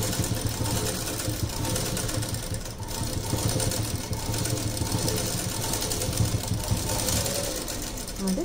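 A sewing machine stitching the side of a blouse runs in a steady, close mechanical whir with rapid needle clatter, continuous throughout.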